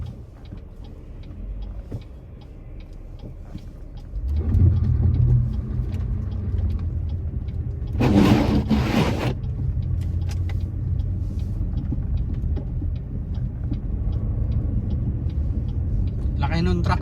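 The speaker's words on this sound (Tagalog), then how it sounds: "Laki nung truck sa kanan ko." A large truck rolls alongside on the right in traffic, heard as a loud low engine rumble that swells midway with a brief hissing burst, under steady road noise.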